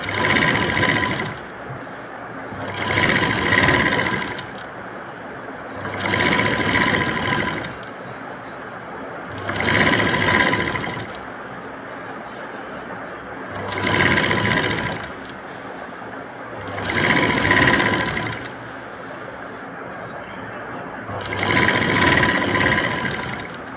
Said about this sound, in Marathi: आता आपण टीप मारून घेऊ